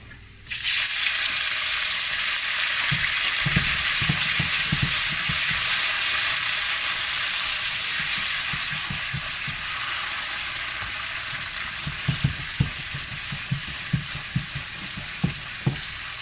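Braised tofu hits a hot pan of garlic with a loud burst of sizzling that settles into a steady, close frying hiss, broken by scraping stirs and light clatter toward the end.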